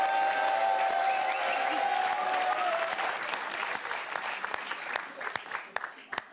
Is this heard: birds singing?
no